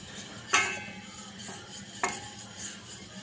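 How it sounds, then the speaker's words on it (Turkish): Starch and flour mixture for a milk pudding being stirred quickly in a pot, giving two sharp utensil clinks against the pan over a low scraping background, with no talking. "Hızlı hızlı karıştıralım."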